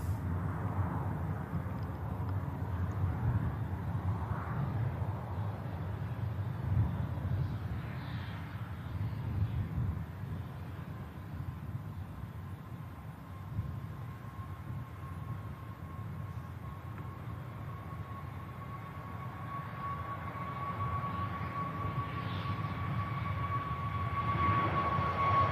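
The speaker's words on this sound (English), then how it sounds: "BA already on the departure roll" A BA airliner on its departure roll and climb from Manchester Airport gives a distant, steady low rumble with a faint rising whine, sustained throughout at moderate level.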